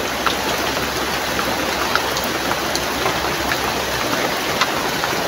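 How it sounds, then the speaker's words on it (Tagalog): Heavy rain pours steadily and loudly, a dense, unbroken hiss of drops with faint scattered patters and no voices. "Lakas ng ulan."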